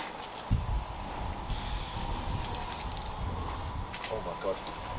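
A hissing aerosol spray bursts on for a second or so, fairly close, over a low mechanical rumble and some faint talk.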